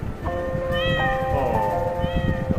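A cat meows loudly and close, two wavering, tonal cries over a constant dense background rumble, with no speech.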